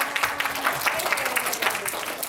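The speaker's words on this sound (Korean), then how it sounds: "주영 리더님을 응원하는 의미로 박수 한번 쳐드릴까요?" Audience clapping in encouragement for a young leader at a winter camp concert, a short, fairly close burst of steady applause with no one talking over it.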